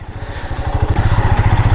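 A Royal Enfield Himalayan motorcycle engine thumps with a steady, rapid single-cylinder beat at an off-road scrambler event, close and loud, its pulse quickening slightly toward the end.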